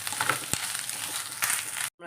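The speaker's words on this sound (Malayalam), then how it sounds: "തേങ്ങ നമുക്കൊന്ന് വറുത്തിടാം" Coconut frying in a pan with urad dal and dried red chillies, a continuous close sizzle with a couple of scraping stir strokes before it cuts off abruptly.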